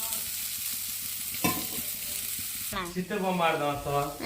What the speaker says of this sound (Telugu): ఈ వెజిటేబుల్స్ ఆనియన్స్ టమాటాలు అలానే ఉల్లిపాయ అది టమాటా ఒకటి ఫ్రై చేస్తున్నాం